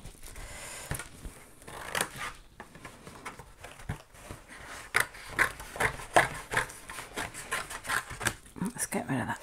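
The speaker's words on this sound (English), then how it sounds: "I'm going to just cut really inside here" Scissors snip through paper in a run of short, crisp cuts, close up, with some soft talking in between.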